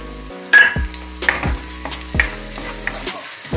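Two small chopped onions, added after fennel seeds, sizzle loudly in hot oil in a pan, close and steady, with a few scraping stirs of a spoon cutting through the frying hiss.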